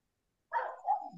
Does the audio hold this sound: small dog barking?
yes